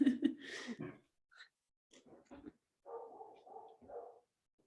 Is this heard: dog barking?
yes